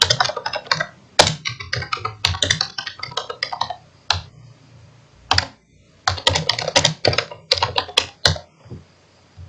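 Someone types steadily on a computer keyboard, entering data into MYOB accounting software. Quick bursts of close, crisp key taps are broken by short pauses, with no voices.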